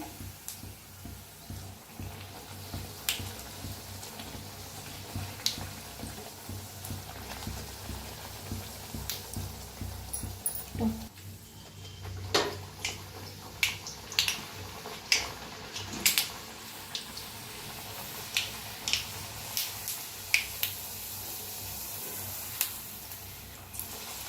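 Puris fry in hot oil, a quiet continuous sizzle broken by scattered sharp pops and crackles, with a few louder bursts in the middle and later.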